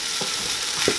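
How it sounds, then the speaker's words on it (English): Fish chowder cooking in a pan, with a steady close sizzle throughout and a couple of soft stirring knocks. No voices. "the sizzling sound really terrifies me here"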